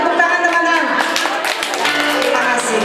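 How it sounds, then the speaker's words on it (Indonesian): Audience applause in a hall at a high school reunion, a dense wash of many hands clapping steadily and fairly loud for about three seconds. "Berikan tepuk tangan teman-teman."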